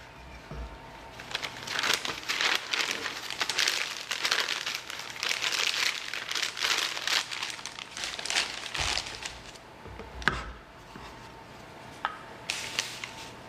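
A regular plastic bag crinkling and rustling while being filled with dough for hot cross buns, close and busy at first, then a few sharper crackles as handling eases off.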